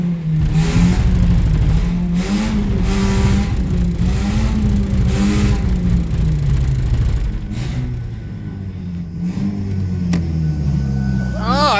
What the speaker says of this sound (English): Then we'll kill the engine, right?